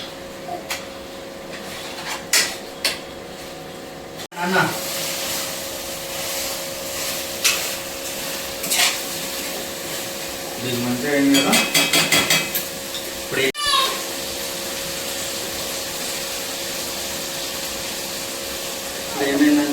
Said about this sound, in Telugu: వాటర్ మొత్తం తగ్గిపోయి మంచిగా చికెన్ ఫ్రై అయింది